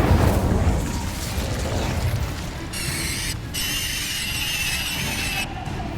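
Incendio fire charm cast in Hogwarts Legacy: a steady, loud rumbling blaze with crackling bursts, joined midway by a bright ringing shimmer that cuts out briefly and returns, no voices.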